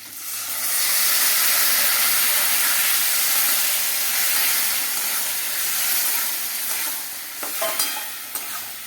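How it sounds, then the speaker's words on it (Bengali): Boiled bottle gourd hits hot oil with fried prawns, setting off a loud, continuous sizzle and hiss that holds steady, then thins out as a few scraping clinks of stirring come through near the end. "এরপরে এই যে সেদ্ধ করে রাখা লাউটা আমি এর মধ্যে ঢেলে দেবো।"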